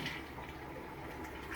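A cottage toilet flushing, a steady broadband rush of water pouring into the bowl at close range, continuous for the whole moment with no talk.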